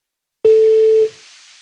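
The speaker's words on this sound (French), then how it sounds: "là je comprends que c'est une sonnerie" A telephone call rings out on the line: one loud, steady ringback beep lasts about six-tenths of a second, then drops to a faint hiss.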